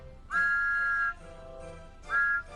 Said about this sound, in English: Spencer blew his whistle, and Thomas whistled back